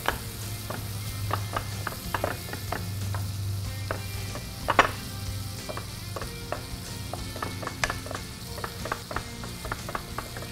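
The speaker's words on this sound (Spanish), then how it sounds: "Vamos a subir bien el fuego. Y vamos a ir acá mezclando muy bien la carne." Meat stirred in a hot pan with melted Mirasol margarine over high heat, a steady moderate sizzle broken by frequent scraping and tapping of a utensil, with no one speaking.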